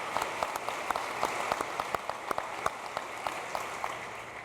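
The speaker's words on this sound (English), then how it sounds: "So let's give a round of applause to everybody who helped make this so successful." Audience at a 2015 convocation ceremony claps in steady applause, a dense patter of many hands with sharper individual claps standing out, moderately loud and with no talk over it.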